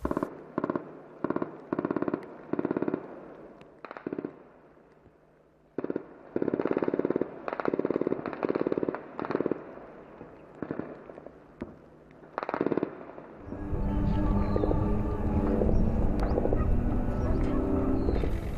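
Bursts of machine gun fire during urban fighting against militants in Marawi, Philippines, loud and close in rapid repeated volleys, giving way to a steady roar of engine or crowd noise near the end.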